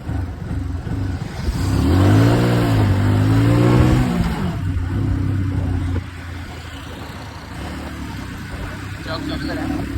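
A Hero Passion Pro motorcycle running out of petrol revs and surges unevenly, rising loudly for a couple of seconds before falling back to a lower, rougher running note. Someone talks over the engine.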